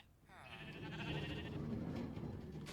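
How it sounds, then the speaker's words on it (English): Sheep bleat on a Minecraft sheep farm in a video game, a wavering harmonic bleat drifting over a steady buzzing game backdrop, fairly soft and continuous. "This is the sheep farm."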